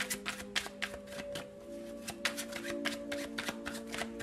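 Tarot cards being shuffled by hand, a steady run of crisp riffling bursts repeating close to the mic over a low steady tonal hum, with no talking.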